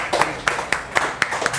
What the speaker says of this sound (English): keep clapping, ladies and gentlemen